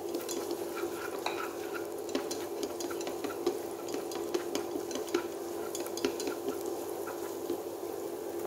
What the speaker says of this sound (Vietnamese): Bây giờ cái chảo nóng mình cho gừng vào nha.